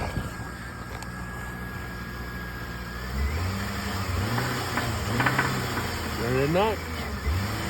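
A car engine with suspected rod knock, unstarted for a long time, cranks into life after about three seconds and is revved in uneven bursts, while people talk nearby.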